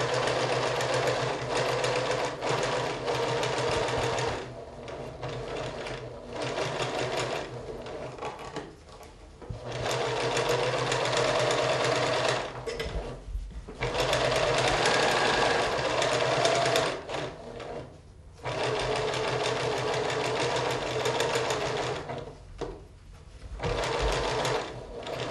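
A sewing machine runs in long bursts of rapid, steady stitching, close and loud, pausing briefly between runs as the fabric is guided around curves with the needle down.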